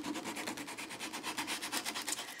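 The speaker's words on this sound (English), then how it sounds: "Bring in the sandpaper, scuff that silver up a little bit." Sandpaper scuffing silver paint on a craft page in rapid, even back-and-forth strokes, a soft rhythmic rasp repeating many times, close and quiet with no talking.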